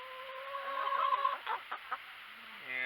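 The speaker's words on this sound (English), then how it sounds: "And that's our rooster right there." A rooster clucks and calls close by, a few short sharp bursts followed by a longer drawn-out cry, with quiet background between.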